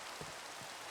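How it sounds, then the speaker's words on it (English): Rain in the Minecraft Cobblemon video game gives a steady, hissing wash of falling drops that fills the whole moment at an even, moderate level, with a couple of faint low bumps underneath and no talking. "Got some rain."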